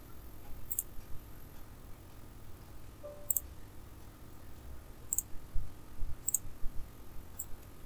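Several faint computer mouse clicks sound while someone works in a Windows command prompt. They are short, crisp single clicks spaced a second or two apart over a quiet room hiss, with no talking.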